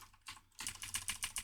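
Rapid keyboard typing and key clicks on a computer during a Kali Linux SQL injection session, starting with a brief burst and then a steady run of close, crisp keystrokes with no talk.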